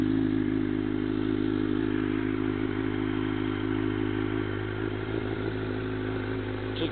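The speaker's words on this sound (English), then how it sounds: "Micron exhaust." Suzuki GSX-R 600 motorcycle, 2005 special edition, fitted with a Micron exhaust, idling with a steady, deep rumble throughout, close and fairly loud with no talking.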